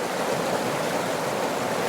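River rapids rush in a steady, dense broadband roar, loud and close with no pause, the water churning continuously and nothing else standing out.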